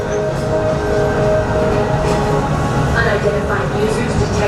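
A Walt Disney World ride train in Tomorrowland runs along its track with a continuous loud rumble and rolling drone, steady throughout with faint higher squeaks near the end.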